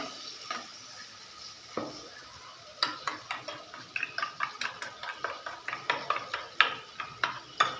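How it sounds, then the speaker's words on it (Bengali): A spoon scraping ground spice paste around a cooking pot, with quiet clinks and scrapes that settle into a quick, steady stirring rhythm close up. "মশলাটা ঢেলে একটু নেড়ে চেড়ে নিচ্ছি"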